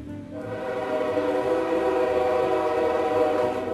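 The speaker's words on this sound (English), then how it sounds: "And the melodious sound of a train going by outside." A train passing outside a hotel in Warm Springs, Georgia, heard as a steady, sustained horn-like whistle with rich harmonic tones and a continuous rolling rumble underneath, holding at an even, fairly loud level throughout.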